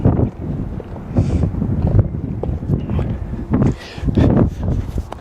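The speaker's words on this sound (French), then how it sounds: "Faut savoir qu'on a un peu de vent là sur le plateau." Gusty wind on an open plateau buffets the microphone with low rumbling roars that rise and fall unevenly.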